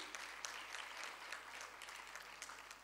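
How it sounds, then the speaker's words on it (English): Audience applause from a room of conference attendees at a women's forum event in New Delhi, a steady dense patter of clapping hands filling the space without a break, moderately loud and continuous, with no voices over it. "a big round of applause to everybody who's in this room"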